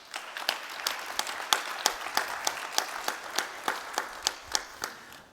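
Audience applause at a corporate presentation on LoRaWAN metering in Munich, a steady spread of clapping from a crowd with sharp individual claps popping out regularly, moderately loud and without talk.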